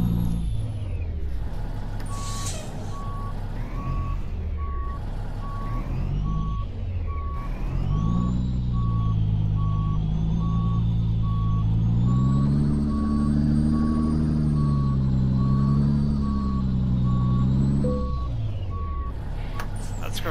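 Heavy truck in Euro Truck Simulator 2 backing up to park, its reversing alarm beeping in a steady, regular pattern over a loud, droning diesel engine that swells and ebbs with the throttle.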